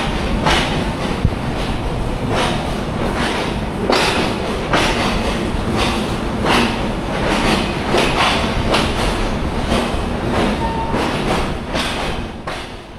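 The Shimanto Express, having just left Jessore Junction, rumbles loudly along the rails with steady rhythmic clickety-clack wheel beats repeating roughly every second, heard up close from inside the moving train.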